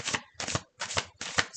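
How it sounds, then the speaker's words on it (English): Playing cards being riffled and shuffled close by in four quick, crisp bursts with short pauses between. "Oh, I'm sorry if this is loud. That's why I shuffle off camera usually."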